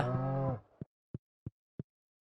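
A cow in the Stardew Valley farming game gives one full, close moo, followed by four evenly spaced soft taps, with no talking.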